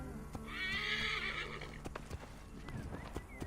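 A horse in the Assassin's Creed Origins video game gives a loud, drawn-out whinny, with a few hoof clops and thuds around it.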